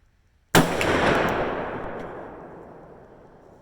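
A single sharp gunshot from a Ruger Super Blackhawk .44 Magnum revolver during load development, loud and close, with a long decaying echo trailing off over several seconds.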